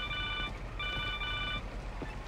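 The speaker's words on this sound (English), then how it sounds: "Phone call." Phone ringing in the Marvel's Spider-Man video game: a steady electronic ringtone in two bursts with a short gap, over a low rumbling game background.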